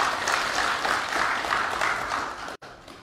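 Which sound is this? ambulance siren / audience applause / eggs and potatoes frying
audience applause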